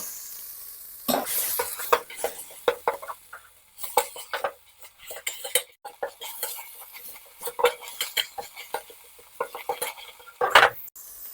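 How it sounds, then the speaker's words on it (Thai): Garlic, shallots and shrimp paste are stir-fried over low heat in a pot, with a soft sizzle under repeated scraping and clinking of a metal utensil against the pot in uneven bursts. "กระเทียมกะปินะครับ คั่วก่อนครับ ใช้ไฟอ่อนครับท่านผู้ชม"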